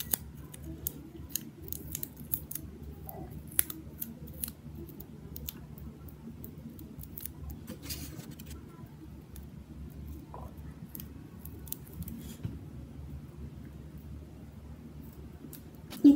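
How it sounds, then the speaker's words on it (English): Scissors cutting tape and construction paper for a small DIY miniature phone craft, giving soft, scattered snips and ticks over a steady low background hum, with no talking. "Tape it down and then you cut it."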